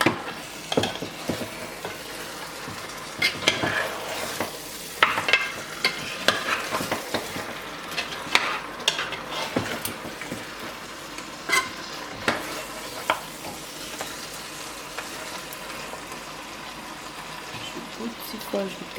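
Braised pork ribs frying in a pan while being stirred: a continuous sizzle broken by scraping and clattering strokes of the utensil, with a voice speaking over it.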